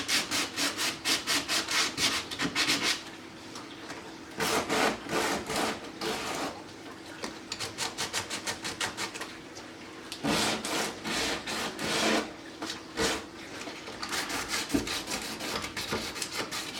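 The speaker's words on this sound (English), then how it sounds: "I got some 60 grit sandpaper here, and I'm just gonna go in and sand it down" Rhythmic back-and-forth sanding with 60 grit sandpaper scratching a tank surface, loud and close, in steady bursts with brief pauses between strokes.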